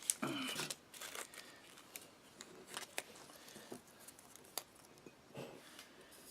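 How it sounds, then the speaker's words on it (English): A small tea sachet from a Dutch 24-hour combat ration is torn and opened, giving faint, close crinkles and snips of foil or paper in short scattered bursts with quiet gaps between. "You can open that little sachet up."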